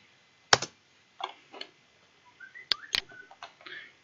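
Keys tapped on a computer keyboard while entering a value in a drafting program, a few sharp close clicks spaced out, then a quicker cluster of lighter taps.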